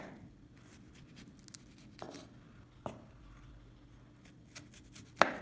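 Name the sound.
knife cutting stems off strawberries on a cutting board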